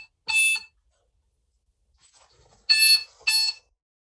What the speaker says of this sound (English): can I just answer this phone call?